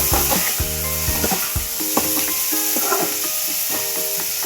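Half a kilo of cut brinjal pieces fry in a pan under a constant close sizzle, with repeated scraping stirs of a spatula at a rough, uneven rhythm and no voices.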